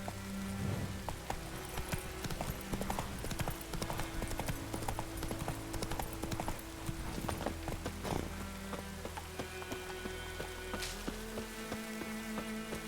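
Horse hooves clip-clop steadily through the Witcher 3 countryside, a continuous trotting rhythm set against game music and a patter of rain.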